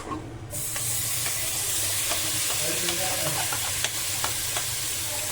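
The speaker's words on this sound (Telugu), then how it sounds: "కొంచెం ఆయిల్ వేడెక్కిన తర్వాత మనం పన్నీర్ అనేది యాడ్ చేసుకుందాం." Paneer frying in hot oil in a pan, a steady close sizzle and crackle with faint stirring clicks and scrapes, continuous throughout with no talking.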